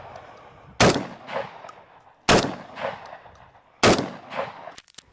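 Three loud, evenly spaced blasts from a Saiga shotgun fired at a pattern target outdoors, each sharp crack trailing off into a short echo, with a faint clatter at the end.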